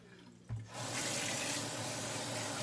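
Boiled pasta water dumped from a pot into a strainer in a home kitchen sink, a sudden broadband rush of pouring water that starts with a thump and keeps splashing loudly to the end.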